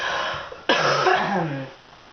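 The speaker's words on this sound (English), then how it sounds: "Sorry for the cough" A single sharp cough bursts out abruptly, followed by a short rough throat-clearing rumble, close to the microphone with no talking.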